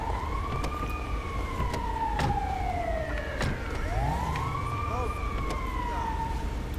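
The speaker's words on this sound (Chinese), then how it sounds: "有那个救护车哎" An ambulance siren wails in GTA5, loud and close, its tone sweeping up and down in long cycles over engine and traffic noise.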